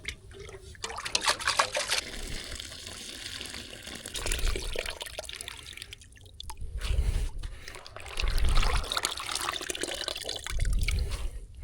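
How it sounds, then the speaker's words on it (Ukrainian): Water of the Dnipro river at Kaniv rushes back in a steady, broad wash with some trickling and splashing, loud and close, swelling in several surges with no voices. "Вода просто з нереальною швидкістю повертається назад."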